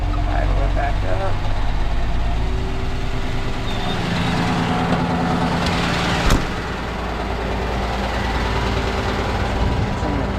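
A Chevy truck engine idles steadily throughout, a continuous low rumble with a brief sharp knock near the middle, while people talk over it now and then.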